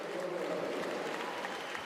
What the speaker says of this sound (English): Russian crowd trying to lift Koltanova and Goncharova again